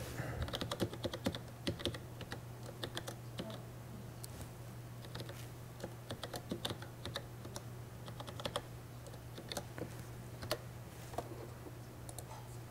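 Fingers type on a very small computer keyboard, a steady run of light, quick key clicks with short pauses, close and fairly quiet over a low constant hum.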